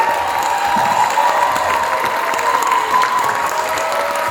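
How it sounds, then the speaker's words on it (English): Audience applause and cheering from a large crowd, a steady wash of clapping with a sustained tonal hum beneath it, loud and even throughout without pauses. "just a big round of applause"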